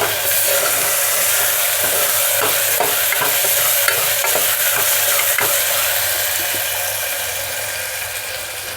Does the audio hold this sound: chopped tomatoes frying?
yes